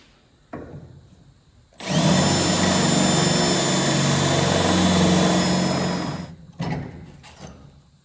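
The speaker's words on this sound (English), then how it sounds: "Hit your punch, then drill, people." A power drill drilling into car body metal during A-pillar rust repair whines loudly and steadily for about four seconds, up close, with short clanks and handling noises before and after.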